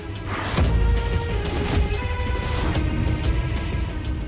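A phone rings with a repeating electronic tone over a busy, noisy background; no one speaks.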